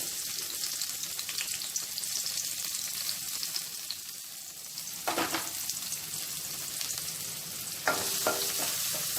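Green chillies and onions sizzle steadily in hot oil in a pan, a continuous close crackling hiss with occasional stirring scrapes and clinks.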